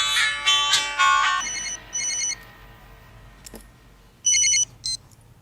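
An electronic phone ringtone in a Hindi film scene sounds in repeated bursts: a melodic loud stretch first, then short beeping trills separated by quiet gaps.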